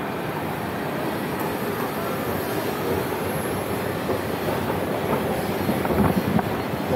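A train rumbles steadily along the rails with continuous wheel noise and faint clatter, loud and close, no talking.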